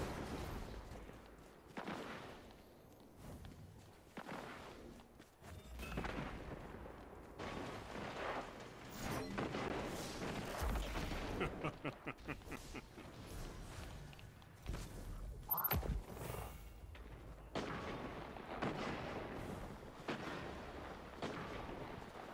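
Gunfire and blasts in a Destiny 2 mayhem mode match come as repeated booming shots and bursts at varying distance, fairly dense and steady, without talk.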